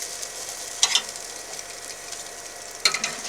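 Thick pieces of chicken browning slowly in a pan give a steady, bright sizzle, close and fairly loud, broken by two sharper crackling bursts as pieces shift; no talk.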